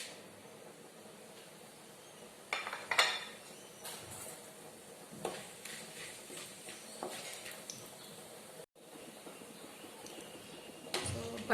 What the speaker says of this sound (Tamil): பட்டையெல்லாம் நல்லா பொரிஞ்சிருச்சு